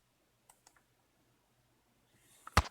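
A computer mouse clicks the update firmware button during an update for a Grin Cycle Satiator e-bike charger. Three faint, quick clicks sound in a quiet room, followed by a sharper, louder click cluster at the end.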